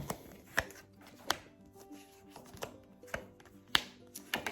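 A deck of tarot cards is cut and handled on a table, producing a series of soft, irregular taps and clacks, close and quiet, with no talking.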